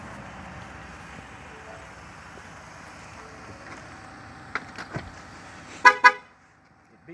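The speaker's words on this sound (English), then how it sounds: "It beeped at me because I have the key in my pocket and I left it running" Low idling engine hum from a 2017 Ford F-150 EcoBoost pickup, then a few short key-away warning beeps, the last pair louder and sharper before the sound drops away.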